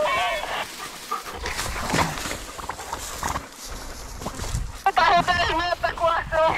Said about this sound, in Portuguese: Chega aqui, cachorrada!